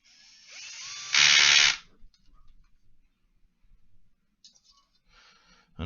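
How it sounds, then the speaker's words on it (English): A power driver running screws into a go-kart part during a transmission and sealed bearing install, with one short, loud whirring burst followed by faint clicks and handling noises nearby. "I know some people say don't use a driver to put them on there"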